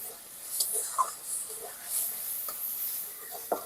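Loitta, Bombay duck fish, is stirred in a pan as its liquid cooks off, giving soft intermittent scrapes and clinks over a faint, quiet sizzle.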